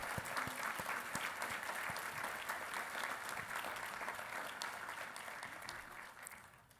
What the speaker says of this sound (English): Let's give all of our graduates and their families a big round of applause